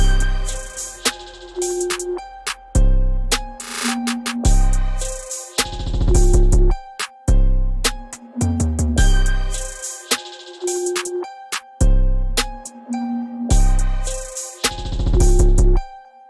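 Trap beat with reversed bell tones swelling into each phrase, sparse simple drums and deep booming 808 bass, loud and looping steadily without any voice.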